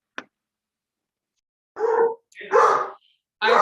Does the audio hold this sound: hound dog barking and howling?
yes